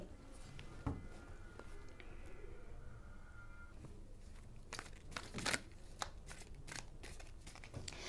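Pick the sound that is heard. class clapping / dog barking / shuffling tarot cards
shuffling tarot cards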